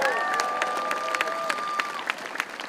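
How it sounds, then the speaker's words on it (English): Crowd at a hospital cuts protest in Dunedin applauding, a brief burst of scattered clapping under a lingering tonal whistle or feedback, fading as individual claps trail off. "Give him a round of applause"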